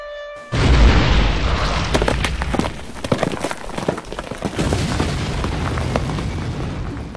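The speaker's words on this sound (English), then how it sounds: "once they're safely above ground, the explosives are detonated." Underground explosives detonate in a gold mine with a sudden loud boom, followed by several seconds of rumbling, crackling bursts and falling rubble that slowly fade.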